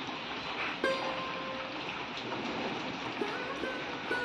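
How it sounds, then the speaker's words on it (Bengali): Morning rain falls outdoors as a steady, soft hiss of drops, even and continuous throughout, with a few faint thin tones and small knocks in the background. "আজকে সকাল সকাল বৃষ্টি পড়ছে"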